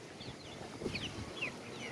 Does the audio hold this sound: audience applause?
no